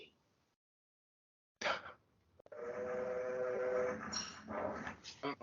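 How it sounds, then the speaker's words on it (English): A train rumbles along with a steady, loud roar and a shrill whistle-like tone in the Old West stage of the TMNT arcade game, starting abruptly after a quiet gap and a sharp hit. "Now we're going into the Old West on a train."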